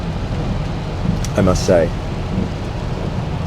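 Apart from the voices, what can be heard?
heavy rain while driving a Volvo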